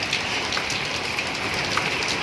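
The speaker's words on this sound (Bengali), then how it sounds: "আজকে তো ভালোই বৃষ্টি আছে" Light drizzle falling, a steady close patter of raindrops on surfaces with a continuous hiss and occasional distinct drips, no voices.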